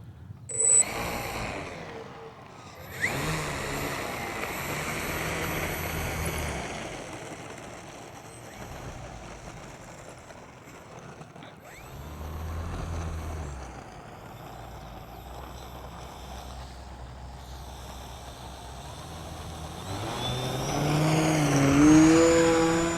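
A radio-controlled model aircraft fitted with an ELRS PWM gyro receiver runs its motor under throttle during a test flight, a steady droning whine that holds for most of the clip and swells louder near the end, with no talking.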